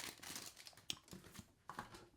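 A package holding a nib cloth for an Esterbrook fountain pen is torn open, giving crinkly rustling with brief crisp tears and snaps, close and fairly quiet.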